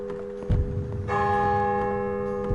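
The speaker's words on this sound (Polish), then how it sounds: "Dzwony biją." Church bells ring in the video game Hype: The Time Quest, with a close, heavy clang struck first and then a sustained, shimmering bell tone that rings on steadily.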